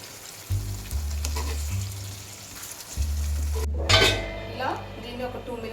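A spoon stirs green chilli egg masala curry in a pan, clinking and scraping against the metal over a steady frying sizzle, with a louder clatter toward the end.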